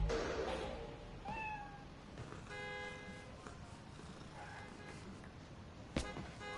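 A cat meows a few times in the Spider-Man video game Your Friendly Neighborhood Spider-Man, with short rising calls among city ambience, horn-like tones and a sharp hit near the end.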